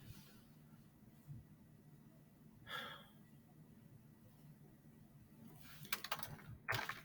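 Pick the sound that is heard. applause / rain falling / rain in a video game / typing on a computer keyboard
typing on a computer keyboard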